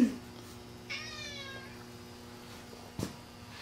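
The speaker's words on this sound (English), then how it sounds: "Oh. A cat." A cat meows once in a drawn-out, falling call close by in a quiet workshop with a new workbench at night, followed by a faint steady hum and a brief soft bump.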